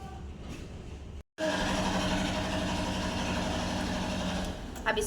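A sewing machine runs steadily in a stitching lesson, sewing a reversed fabric strip onto another piece; a continuous loud mechanical whir with a short break near the start, then several seconds of even motor hum.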